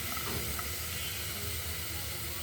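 Onion and garlic fry together in a pan with a constant, soft sizzling hiss that stays even throughout. No talk is heard over it.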